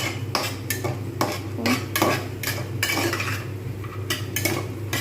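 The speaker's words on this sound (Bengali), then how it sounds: "এটা আমি নাড়তে থাকবো সঙ্গে একসঙ্গে ভালো করে কষিয়ে নেবো" A spoon scrapes and clinks repeatedly against a pan while matar dal masala is stirred and fried, the close metallic strokes coming in a loose, regular rhythm over a low background hum.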